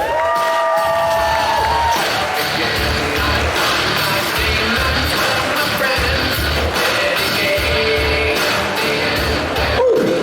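A crowd at a For The Love Of Horror 2024 convention Q&A cheers, whoops and applauds loudly as guests come onto the stage, a sustained roar of clapping and shouting with brief higher tones near the start.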